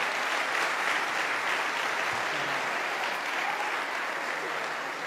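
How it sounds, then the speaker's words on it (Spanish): Audience applause for professional performers at a parish gathering, a continuous wash of many people clapping for several seconds, even and moderately loud. "Un aplauso a esos artistas profesionales."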